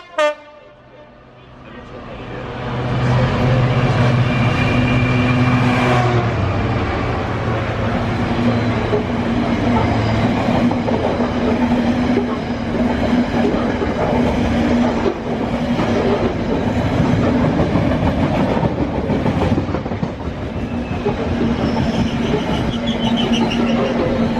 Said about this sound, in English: That's the stinky train going to Calvert